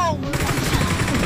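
Rapid automatic gunfire in the battle royale game Game for Peace (和平精英) rattles loud and close in a dense continuous burst, layered over game sound effects.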